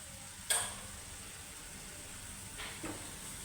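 Chakvat leaf vegetable being sautéed in a pan, a soft steady sizzle with brief stirring scrapes at the start and near the end, quiet and close, no voices.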